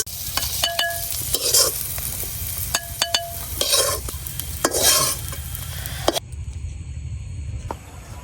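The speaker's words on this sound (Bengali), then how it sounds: "পেঁয়াজগুলার আমি হালকা করে ভাজা নিচ্ছি।" Onions frying lightly in oil in a pan, stirred with scraping utensil strokes over a constant close sizzle, with a few sharp clinks before the sizzle quiets near the end.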